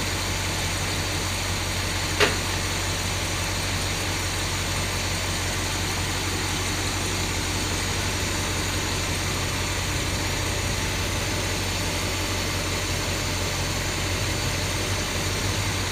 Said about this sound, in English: It's all idling now. The engine's still cold.